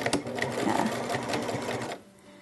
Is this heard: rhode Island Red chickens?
no